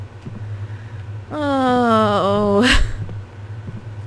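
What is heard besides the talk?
washing machine-like noise in Deathbloom video game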